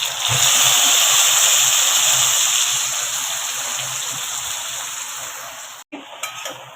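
Chopped kunjir leafy greens hit hot oil with browned garlic in a pan, a loud, dense hiss of sizzling that holds steady and then cuts off abruptly near the end, followed by a few faint clatters.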